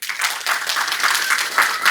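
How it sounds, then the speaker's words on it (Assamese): An audience claps for a teacher, a dense burst of applause running steadily for the whole short stretch, loud and close. "এজন মেডামৰ কাৰণে হাত চাপৰি হ'ব লাগে"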